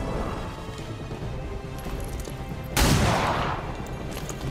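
A single pistol shot fired in the video game XCOM 2: War of the Chosen: one sharp, loud, close burst that decays over about a second, rising out of a steady, busy bed of game ambience.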